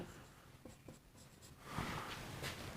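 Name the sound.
writing on a board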